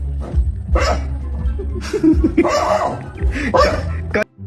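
A dog barks and yips several times up close, in short loud bursts with brief gaps between them.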